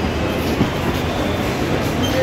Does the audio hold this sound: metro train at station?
yes